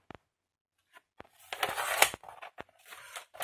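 Scissors snip through cardboard while a paper decoration frame is being made, giving a few short crisp cuts and rustles close by, with quiet pauses between them.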